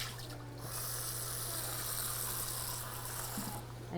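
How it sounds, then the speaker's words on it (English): Cool water pours into a pot while homemade malted milk ball candy is being made, a steady, moderately quiet hiss and gush that runs for several seconds alone, with a low steady hum beneath. "I'm also gonna get some cooler water in here."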